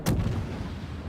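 A warship's gun in the naval game Pheonix fires a single loud, heavy boom, followed by a long rumbling decay.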